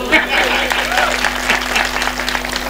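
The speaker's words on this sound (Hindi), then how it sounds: "तालियां कमजोर हैं" A crowd at a Hindi comedy poetry gathering claps, a modest patter of applause under a steady hum, with voices mixed in over the clapping.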